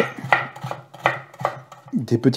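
A knife cuts through a bitter gourd on a board with a series of irregular close crisp chops and taps, several sharp strokes then a quicker cluster at the end.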